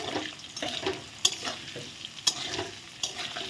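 Potato pieces frying in oil with salt and turmeric, sizzling steadily while a spatula scrapes and clatters against the pan in repeated sharp strokes, close and fairly loud.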